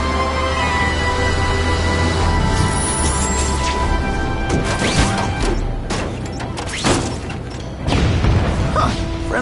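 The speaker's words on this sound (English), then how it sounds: "Friendly neighborhood fireworks." Fireworks in a PS4 video game, a dense run of loud booms, crackles and bursts filling the scene, close and continuous with no pauses and no talk over them.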